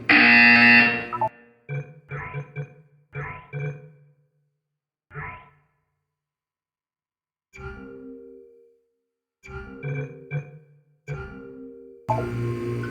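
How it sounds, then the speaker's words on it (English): In the video game Portal 2, a harsh electronic buzzer sounds in several short, loud bursts separated by silent gaps, with a longer blaring tone at the start and end. "When you hear the buzzer, look up at the ceiling."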